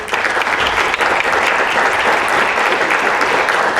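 Steady, full audience applause at a Latino Thought Makers event hosted by Rick Najera, thick continuous clapping from a crowd with a brief dip near the start, no voices heard over it.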